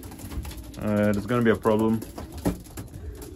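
Pigeons coo in a loft, several close, rounded harmonic calls in a cluster around the middle, with someone talking through and around them.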